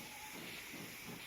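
An LMS 3F Jinty steam locomotive shunts in Train Simulator, heard as a faint, steady hiss of steam over a low rumble, with no voices.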